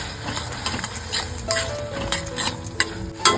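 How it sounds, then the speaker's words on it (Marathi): Tomato and chili paste being sautéed in a pan for paneer butter masala, heard as a steady close stirring and scraping with a soft sizzle underneath, continuous and fairly loud with no talk. "टमाटर आणि मिरचीची ही पेस्ट ना चांगली परतून घ्यायची"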